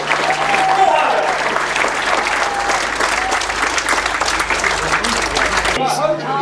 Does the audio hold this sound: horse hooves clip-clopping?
no